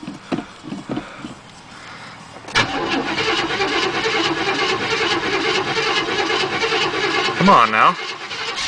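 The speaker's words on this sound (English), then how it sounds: "Car's been sitting for about a month or so. Fires up like a champ." A Chevrolet Chevelle that has sat for about a month cold-starts in Canada: a few weak cranks, then the engine catches with a loud burst and settles into a steady, rough idle, while a voice briefly speaks.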